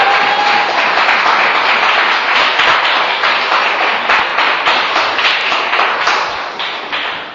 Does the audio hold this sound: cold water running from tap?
no